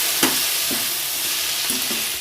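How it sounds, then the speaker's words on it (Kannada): Coriander leaves and mint frying in oil in a pan, a steady close sizzle with a few soft stirring scrapes, heard alone without talk. "ಕೊತ್ತಂಬರಿ ಸೊಪ್ಪನ್ನು ಹಾಕಿ ಮತ್ತು ಪುದೀನನ ಹಾಕಿ ಸ್ವಲ್ಪ ಹೀಗೆ ಎಣ್ಣೆಯಲ್ಲಿ ಉರ್ದುಕೊಳ್ಳಿ"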